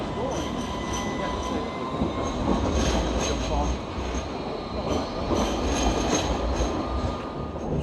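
A clean Sydney commuter train rolls slowly past at a station. A steady, loud rumble carries repeated wheel clicks and a thin, sustained squeal that swells and fades as the carriages pass close by.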